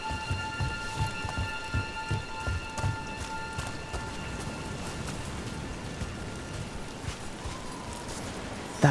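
Steady, dense rain falling in the Dragon Age video game, a continuous wet hiss with scattered louder drops, heard throughout with no voices.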